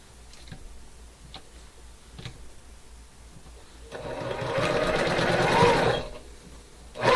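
A sewing machine stitches quilt sashing pieces together in a fast, rhythmic mechanical whir that builds for about two seconds before stopping, after a few faint ticks and clicks.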